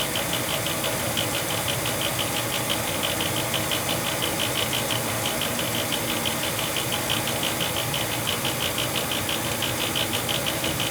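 An old gas furnace's fan runs loudly at night, giving a steady, continuous whir and rattling rumble with a faint pulsing hiss, close and unbroken throughout.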